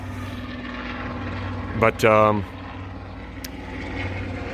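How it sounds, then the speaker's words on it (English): A steady low droning rotor hum from a helicopter overhead fills the background while someone briefly speaks partway through. "So sorry about the helicopter flying over."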